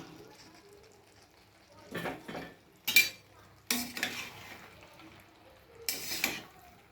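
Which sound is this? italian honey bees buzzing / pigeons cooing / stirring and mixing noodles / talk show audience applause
stirring and mixing noodles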